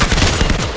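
Rapid burst of video game gunfire, dense overlapping shots running continuously and loud for under a second, with no talk.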